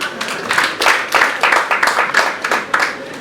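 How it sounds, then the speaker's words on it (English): Applause from an audience for hospital management during a talk, a fairly close burst of many hands clapping in uneven waves for about three seconds, with no voices over it. "So let's give the management a round of applause."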